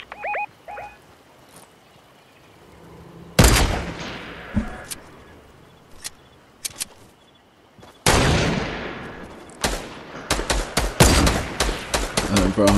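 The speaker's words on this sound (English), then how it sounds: "I'm getting sniped at." Gunfire from Fortnite in a squad match, heard as sharp loud bursts and volleys with quieter gaps and faint game sounds between them. The bursts come in clusters that grow busier toward the end.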